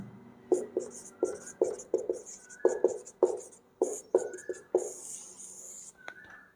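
Writing on a board during a chemistry lesson, heard close as a quick series of sharp tapping, scratching strokes in irregular bursts, with no one talking.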